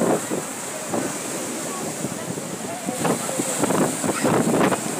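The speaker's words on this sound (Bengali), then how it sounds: "আপনার দেখুন অনেক বড় বড় ঢেউ," Rough surf at Patenga beach on the Bay of Bengal at full high tide roars steadily under gusting wind buffeting the microphone, with waves surging louder toward the end.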